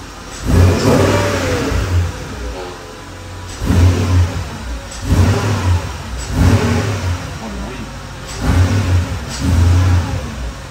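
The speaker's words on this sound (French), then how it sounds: "On dirait un moteur de les LS des Corvettes." A 4-litre V8 engine, sounding like a Corvette LS, revs repeatedly, rising in bursts about every two to three seconds with a deep burbling idle between pulls, close and loud.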